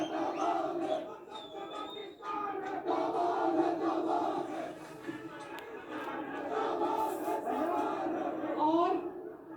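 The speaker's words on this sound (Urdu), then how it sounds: "ہمارے جو یہ بہت پرجوش نعرے لگے ہیں ریئلی ادھر" A large crowd at a Pakistani political rally for Maryam Nawaz chants enthusiastic slogans, a loud, sustained roar of voices with a few brief dips.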